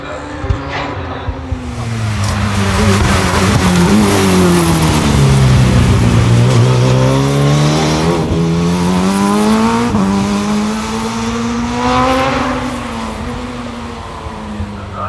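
Racing car on a two-lap sprint at Curborough, its engine note sweeping down and back up through gear changes, loud and sustained throughout, with faint tyre noise and no talking.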